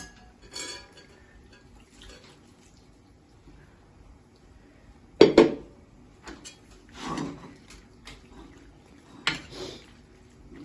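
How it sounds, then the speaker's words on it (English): Pasta with tuna scooped into a serving bowl: a few scattered clinks of utensil against dish and soft scraping, with one sharper knock midway, quiet and close. "Put it into my serving bowl."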